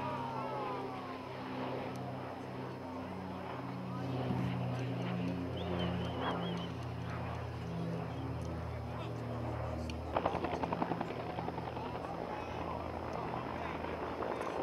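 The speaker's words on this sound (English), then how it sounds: "Here comes another slurry pass with the retardant." A radio-controlled model Cal Fire air tanker makes a slurry retardant pass at an RC air show, its engine a steady, fairly loud droning hum held throughout, swelling slightly mid-pass, with a sharper burst near the end and faint background voices.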